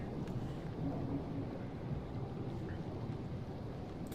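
Steady, dense storm ambience from the video game SOMA: a continuous low roar of wind and rumbling, like a thunderstorm, holding at an even loudness throughout with no talk over it.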